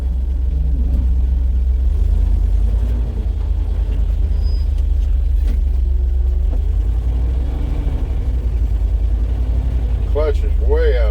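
A bucket truck's engine runs on a test drive with a deep, steady low rumble heard from inside the cab, continuous and fairly loud, with a brief voice near the end.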